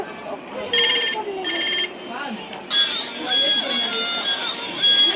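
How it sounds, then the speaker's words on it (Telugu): A toy phone plays a bright electronic ringtone in repeated beeping bursts, with a voice talking over it throughout. "మన్ను కోసం ఈ సెల్ ఫోన్ తీసుకున్నాను"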